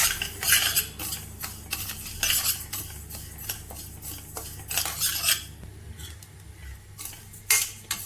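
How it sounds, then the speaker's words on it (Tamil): Foxtail millet rice being stirred in a pan, the spoon scraping and clinking against the metal in quick irregular strokes with soft grainy rustling, close and fairly clear with no talk. "கை விடாமல் கிளறி விட்டுக்கிட்டே இருங்க"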